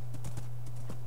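Quick hoofbeats clip-clop in a galloping rhythm over a constant low electronic hum, a horse running in modded Minecraft 1.7.10.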